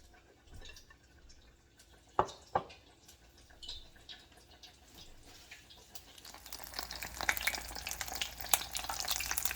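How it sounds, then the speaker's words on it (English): A caramel apple dropped into hot oil for frying gives a couple of sharp clicks and faint crackles, then a steady sizzle that swells and stays loud and close. "I'm gonna put it right into my oil"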